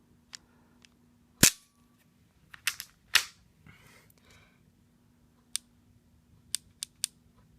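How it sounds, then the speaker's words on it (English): A factory-trigger Sig P226 pistol dry-fired and reset, giving a scattering of sharp, close mechanical clicks, a few louder snaps near the start and a quick cluster of lighter clicks toward the end, over a quiet background hum. "Now, if we do a reset, the one thing I hate about Sigs is their trigger reset."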